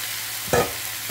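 Shrimp frying in a pan, a steady loud sizzle with one quick stirring scrape midway.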